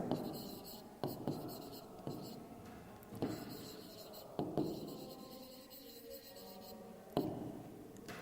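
Chalk or marker strokes on a classroom board as a geometry definition is written, a series of short scratchy bursts about once a second, close and fairly quiet, with faint whispered speech in between.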